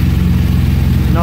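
A BMW R1200RS motorcycle engine idles steadily right after starting, a deep, even rumble close up.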